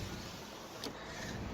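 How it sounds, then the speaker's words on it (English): A car's power window motor hums steadily as the glass moves, a brief whir with a small click partway through, heard close and fairly quiet. "All the power windows work."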